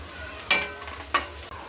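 Onion greens with spices such as turmeric and crushed peanuts being stirred in a pan, giving two brief loud scraping stirs over a faint steady sizzle, with no talking.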